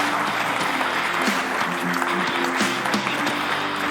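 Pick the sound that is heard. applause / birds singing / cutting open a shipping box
applause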